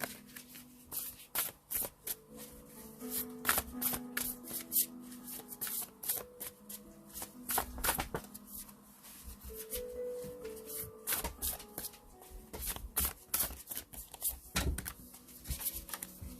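Tarot cards being shuffled by hand for a love reading, a steady run of soft riffling and slapping card sounds lasting throughout, close and fairly quiet with faint background tones.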